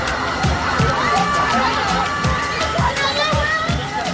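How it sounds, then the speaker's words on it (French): A crowd shouts and yells in a Paris street at night near a police scene, a loud, dense clamour of many voices with rhythmic bursts of cries carrying throughout, close and continuous. "des cris se font entendre"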